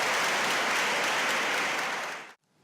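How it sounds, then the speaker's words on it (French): Students on a university campus clap enthusiastically for a presidential visit, a dense, steady burst of applause that cuts off abruptly near the end. "Les étudiants qui se plaignaient de nouveaux critères de sélection de bourse ont vivement applaudi cette visite."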